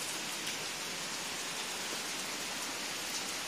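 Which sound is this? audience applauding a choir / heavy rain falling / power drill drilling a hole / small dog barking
heavy rain falling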